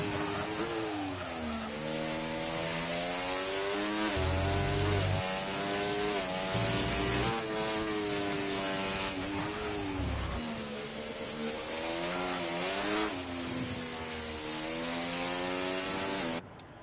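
An F1 car on an onboard lap of the Dutch GP in a racing video game, driven on soft tyres, screams at high pitch, rising and falling with each gear change and braking zone, loud and continuous without talk.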